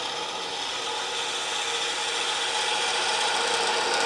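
A gouge scrapes the inside of a small wooden ornament spinning on a lathe, hollowing it out with a mini hollower. A continuous close, steady hiss-like rasp carries on without a break, and no one speaks.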